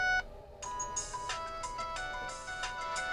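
An electronic phone ringtone plays a bright, repeating melodic tune for an incoming call, steady and fairly close, with no voices over it.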